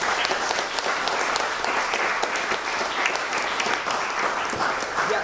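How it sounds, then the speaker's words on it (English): A large audience applauds steadily for about five seconds after a guest talk on building a clothing brand, a dense wash of many hands clapping at a constant level with no pauses or voices. "can we give him a big round of applause"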